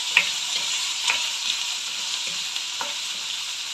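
Finely chopped carrots are stirred into a hot pan of frying food, a steady close sizzle broken by light, irregular scrapes and taps of the spoon.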